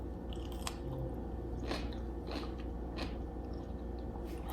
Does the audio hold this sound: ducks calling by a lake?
no